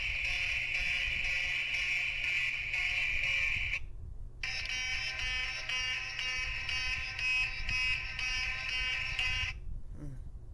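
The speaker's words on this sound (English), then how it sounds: "come from the really old fire alarms that have a light plate on it instead of a strobe." A harsh, continuous electronic buzzing alarm from a very old fire alarm with a light plate drones loudly, cuts out briefly, then resumes and stops near the end; no voices.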